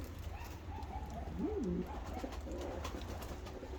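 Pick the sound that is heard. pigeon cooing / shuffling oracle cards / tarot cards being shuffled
pigeon cooing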